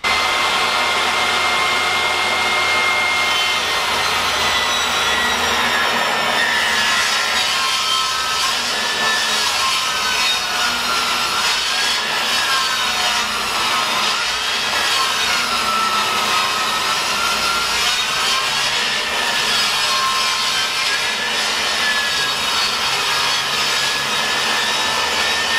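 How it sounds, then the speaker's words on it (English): A saw rips a wooden lower cabinet rail lengthwise, taking it from 3.5 to 2.5 inches wide; a loud, steady whining cut runs unbroken for the whole stretch with no talk. "So I've got my lower rail cut to length. And now I've got to rip it."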